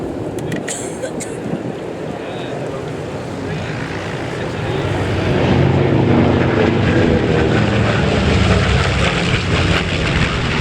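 A Lockheed propeller aircraft flies at an air show, its engine drone building from a moderate rumble to a loud, sustained roar that fills the clip.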